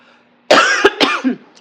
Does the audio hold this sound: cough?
yes